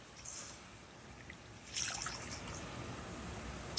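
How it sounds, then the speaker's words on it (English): Water is poured into a pot of shrimp fumet stock: a faint, quiet trickle and drip that builds into a brief, brighter pour midway, then settles into soft dribbling. "And then when I add my water, I've got 48 ounces."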